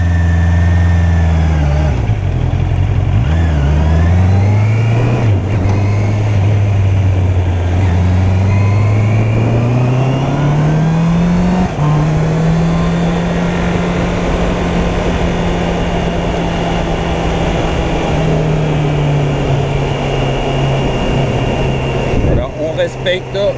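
A Honda CB 650 R motorcycle engine, in A2 licence 35 kW form, climbing through the revs, loud and close with a steady rising drone and wind noise.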